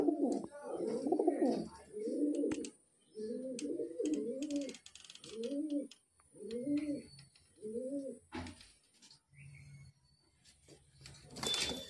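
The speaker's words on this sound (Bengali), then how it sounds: "এই যে ফ্রেন্ড দেখতে পাচ্ছেন যে 7 পিস পায়রা আজকে পিরতলায় যাচ্ছে।" Highflyer Kalshira pigeons, seven birds gathered for delivery, coo close by in a series of soft, rolling calls repeated about seven times, each with brief pauses between, against a quiet background.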